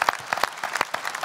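Applause from a gala audience at a folk singer contest, a brief burst of scattered, uneven clapping at moderate distance.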